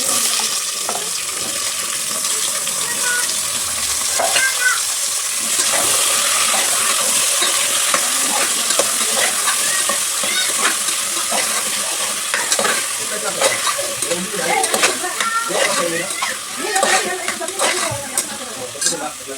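Sliced onions sizzle in hot oil for chayote sambar while a utensil stirs them, a loud, steady frying hiss broken by frequent scraping strokes against the pan.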